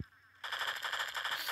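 A supercharged rifle fires in Pixel Gun 3D: after a short near-silent start, a rapid stream of ringing electronic shots follows, steady and moderately loud without speech.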